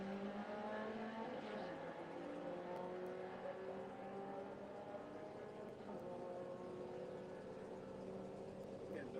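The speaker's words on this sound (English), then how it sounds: "BMW taking on the Escort." A BMW and a Ford Escort drag racing at Santa Pod Raceway, with engines roaring and revving steadily through the gears, rising and falling in pitch, heard from the track side without any voices.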